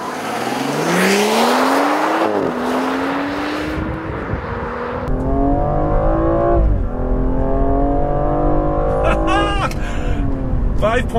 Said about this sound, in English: So I'm gonna put it in sport mode, sport, and I'm just gonna give it a little bit of juice and floor it.